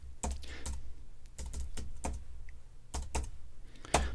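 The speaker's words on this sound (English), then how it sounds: "then I'm going to type the title" Typing on a computer keyboard while entering a title for an image presentation: short bursts of sharp key clicks in irregular groups with brief pauses between them, close and moderately quiet, no talking.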